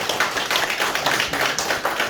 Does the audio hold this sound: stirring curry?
no